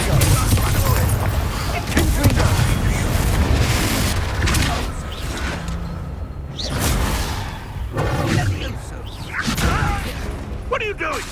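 A fire spell cast in Hogwarts Legacy, heard as a loud whooshing burst with booming thuds that rise and fall over several seconds against dense game effects.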